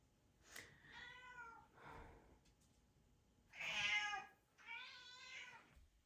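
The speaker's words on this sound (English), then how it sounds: "Never-ending cats meowing at me for something." Several cats meow insistently at close range indoors, four drawn-out harmonic calls in a row, the third loudest, with short quiet gaps between them.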